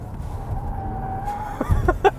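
A 2023 Mitsubishi Outlander PHEV corners hard with a thin, sustained tire squeal over road and engine noise, followed by a couple of sharp bursts near the end.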